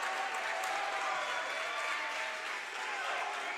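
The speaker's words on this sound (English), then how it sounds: "Crowd excited out here." A high school boys basketball crowd in a gym applauds and cheers steadily, dense clapping mixed with scattered shouts and crowd voices throughout.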